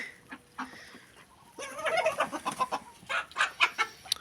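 A male duck in a hen coop at evening feeding gives a run of odd, throaty calls that begin after a brief quiet and grow into rapid, close squawks and clucks.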